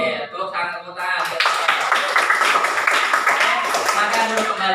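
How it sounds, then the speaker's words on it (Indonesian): Students in an Islamic junior high (MTs) classroom clap their hands together in a dense, steady burst after a short lead-in of voices, close and lively. "tepuk tangan, tepuk tangan"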